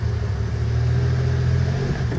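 A car engine strains and revs steadily while climbing a very steep Pittsburgh street at about 20 degrees, with its tires skidding on the slope; a loud, continuous low rumble with no break.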